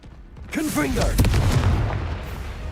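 A Confringo blasting spell from the Hogwarts Legacy video game explodes in a single heavy boom followed by a rumbling crackle, with a voice speaking just before it.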